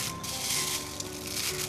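Dried rose petals, dried in the shade for four to five days, rustling and crackling as they are handled, a brief, close, dry papery rattle with no talking.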